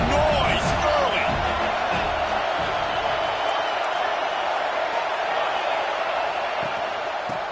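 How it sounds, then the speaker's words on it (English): Stadium crowd noise at a college football game in Madden 23 forms a dense, loud, steady roar throughout, with a commentator's voice heard over it. "Crowd bringing the energy and noise early."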